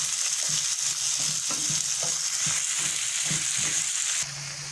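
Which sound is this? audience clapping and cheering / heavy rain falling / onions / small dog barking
onions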